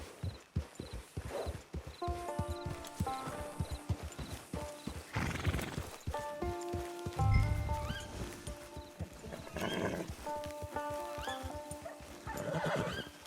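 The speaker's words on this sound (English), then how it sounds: "Get your horse." Horse hooves clip-clop in a steady rhythm throughout a Red Dead Redemption 2 scene, with a horse whinnying in between and music tones layered over the hoofbeats.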